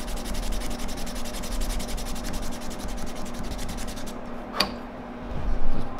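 Continuous close, steady sanding rasp on a lead-drilled swimbait lure, a dense scratchy hiss that runs evenly for several seconds before easing off with a brief knock.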